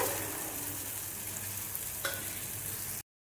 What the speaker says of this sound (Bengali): এরকমভাবে আপনারা মশলা ফ্রাই করবেন